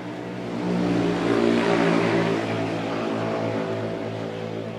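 A buggy engine in a buggy racing video game revs steadily, a droning mid-pitched motor hum that swells and then holds at an even level with no talking.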